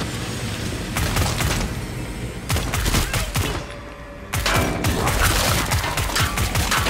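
Rapid gunfire in the shooter game Killing Floor 2, dense bursts and single cracks packed together, loud and close, with a brief lull in the middle before the shooting resumes.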